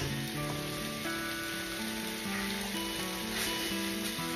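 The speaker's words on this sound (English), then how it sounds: "you're just gonna let it sizzle just for a little bit" Steady, crackling sizzle of meat frying in a hot pan, continuous and fairly close, with a faint tonal hum in the background.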